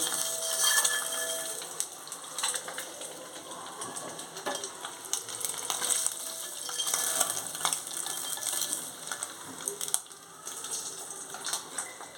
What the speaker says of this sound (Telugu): ఎగ్స్ ఫ్రై చేస్తున్నాను పసుపు వేసి ఫ్రై చేస్తున్నాను